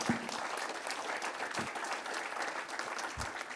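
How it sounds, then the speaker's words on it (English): Sustained applause from an audience at a hydrogen innovation conference forum, steady dense clapping across the whole stretch with a few louder claps standing out near the front. "They deserve a round of applause."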